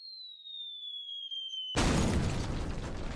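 A Roblox house collapses in a sudden loud crash and rumbling burst of debris noise, cutting off a thin high descending tone that hangs alone before the blast and leaving a sustained roar afterward.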